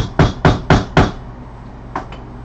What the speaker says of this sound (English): I'm gonna pull out my hammer.